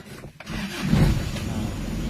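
An Isuzu Dragon Gold diesel pickup cranks and fires up nearby, settling into a steady, loud idle rumble that runs through to the end.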